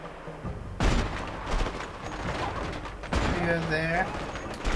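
Gunfire in the co-op prison-escape game A Way Out: loud shots crack out in separate bursts, the first sharp and sudden, the later one longer, while someone talks over the action.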